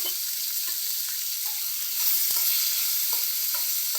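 Half a tomato sautés in a pan for a green peas prawn curry, a steady hissing sizzle with light, occasional scrapes of stirring.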